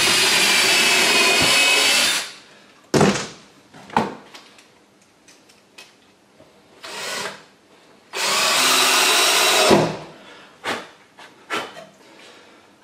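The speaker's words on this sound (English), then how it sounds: "go this side, even it up, and drill a pilot hole." A power drill bores a pilot hole while building a wooden casting sifter sized for a mortar tray, with two long steady whirring bursts separated by clicks, knocks and handling noises, close and fairly loud.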